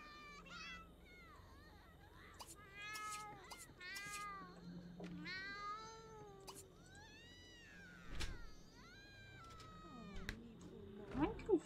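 A cat in The Sims 2 meows again and again with rising and falling wails and shorter calls. Game music plays quietly underneath and no one speaks.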